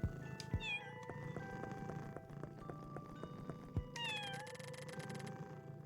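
Cats meow repeatedly in the video game Pocket Mirror, several clear mewing calls, some bright and high, over soft game music, with no one speaking.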